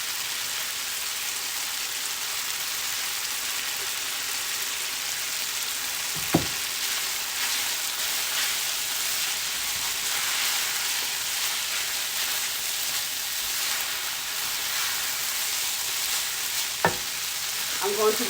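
Eggs frying for fried rice give off a steady, even sizzle in a hot pan, with a couple of brief clinks of a utensil partway through.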